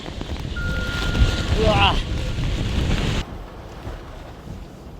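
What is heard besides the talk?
strong typhoon wind blowing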